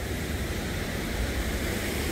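Jiktang Falls, a small, low-drop waterfall on a river in Cheorwon, South Korea, gives a steady broadband rush of falling water, even and unbroken, with no voices.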